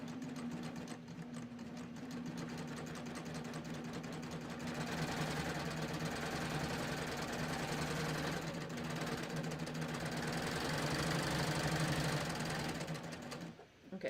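A cover hem sewing machine stitches along the edge of a tee's fabric in one steady, continuous mechanical whir with a low hum beneath, running loud and unbroken for about thirteen seconds before it stops abruptly.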